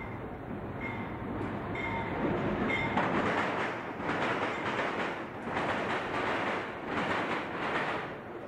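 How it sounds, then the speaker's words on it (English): An ore train running on the Bethlehem secondary track, a steady broadband rumble of rolling freight cars with faint squeals early on and surging, rhythmic wheel noise, fairly close and loud throughout. "This ore train from South Philly is on the Bethlehem secondary track."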